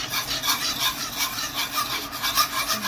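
Dijon sauce stirred in a pan with a utensil, a steady soft scraping and rubbing that repeats in quick strokes for a few seconds, close and fairly quiet, with no talking.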